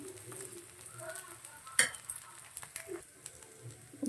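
Oil sizzles softly on a rava dosa frying in a pan, a faint crackling hiss with a few small pops and light scraping, close but quiet.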